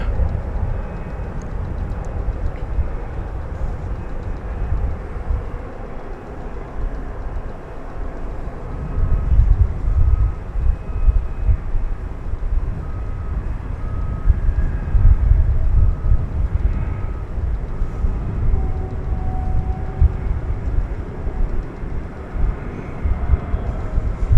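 A UPS Boeing 767 at DFW Airport rumbles with a deep, steady engine roar that swells around the middle and lingers, heard from a distance over continuous low background noise.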